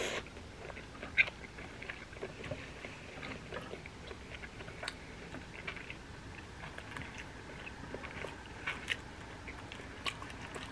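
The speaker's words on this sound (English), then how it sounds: "I'm gonna eat another steamed dumpling." A steamed dumpling is bitten into and chewed close up, with soft wet smacks and small crunchy clicks repeating steadily over a low room hum, and no talking.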